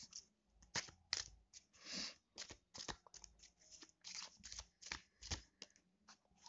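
Cards are shuffled and drawn for a card reading, close and quiet, in a rapid irregular series of crisp riffles, flicks and slides with brief pauses between bursts.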